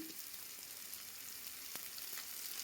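Onions, tomatoes, green chillies and ginger sauté in a pan for chicken curry, a soft steady sizzle with faint stirring clicks, quiet and close, with no voices.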